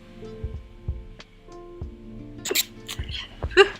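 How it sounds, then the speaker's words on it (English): A short, muffled sneeze bursts out near the end, following quiet throat noises and light breathing close to the microphone. "I gotta sneeze."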